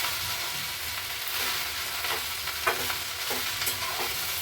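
Okra with salt and kokum sautés in a pan, a steady close sizzle with scraping stirs throughout and no talking.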